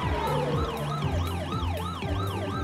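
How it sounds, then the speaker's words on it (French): A fast ambulance's wailing siren sweeps up and down in quick repeated cycles, loud and close over an engine drone, with no talk. "Regarde, l'ambulance roule très vite."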